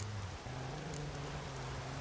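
Thunderstorm rain in The Witcher 3 falls as a steady, dense hiss of downpour with a low droning hum underneath, continuous and even for the whole stretch.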